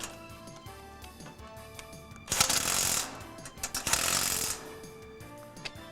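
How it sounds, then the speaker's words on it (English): A tool runs on 1/4-inch bolts during the installation of a Martin Fingershield track in two brief, loud whirring bursts of buzzing mechanical noise, close by and with no one speaking. "And then tighten the 1/4-inch bolts."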